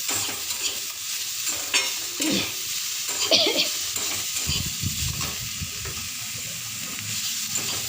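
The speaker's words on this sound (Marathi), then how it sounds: "आणि थोडं चांगलं परतून देऊ." Bitter gourd stir-fries in a pan in a little oil, a close sizzling hiss with scraping and clattering from a spatula turning the pieces.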